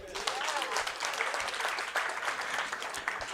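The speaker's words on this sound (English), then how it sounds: "Can you clap for me?" Audience applause at a pilot project event, a steady wash of many hands clapping close by that carries evenly through the whole stretch.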